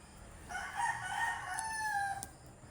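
A rooster crows once in a long, wavering call, loud and fairly close, with soft background noise and no talk.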